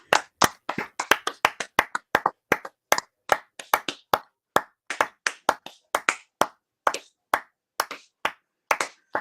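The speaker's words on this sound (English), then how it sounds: "Yo, let's give a round of applause to this guy." A round of applause fills the space, with dense, steady hand clapping from a group that keeps going at an even, lively rhythm throughout, no voices heard.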